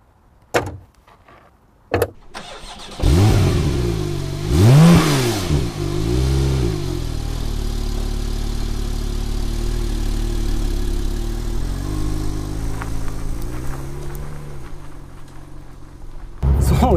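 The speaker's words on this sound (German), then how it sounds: "Jetzt sitzen wir nun in dem Porsche 911 Turbo S Exclusive." A 2017 Porsche 911 Turbo S Exclusive Series: door thuds, then the engine starts and revs sharply a few times before settling into a steady, deep idle heard close up from inside the car.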